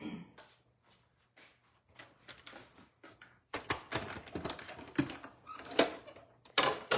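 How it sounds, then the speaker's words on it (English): Cut and emboss machine shifted across a craft table, with scattered knocks, clatters and rustles of handling, some louder bangs near the end. "Let's get our cut and emboss machine over here."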